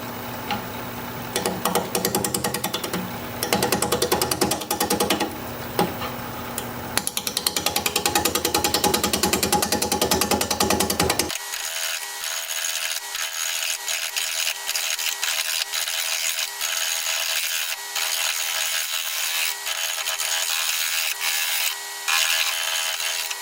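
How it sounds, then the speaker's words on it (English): A wood lathe turns a walnut bowl at 600 RPM as a 5/8 inch bowl gouge cuts, giving a continuous rough, chattering scrape with rhythmic pulses that shifts tone partway through, close and steady with no speech. "5/8 inch bowl gouge, 600 RPM, mask and face shield on."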